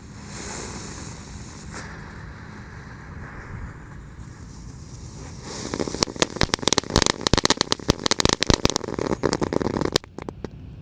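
A mercon tank firecracker lit outdoors hisses briefly, then sets off a rapid string of sharp loud bangs and crackles lasting several seconds, ending with a few final pops.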